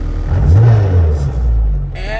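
A 661 hp Honda R34 GT Type R idles at low revs with a deep, close, throbbing engine rumble that swells and settles over a couple of seconds, with a voice briefly heard over it.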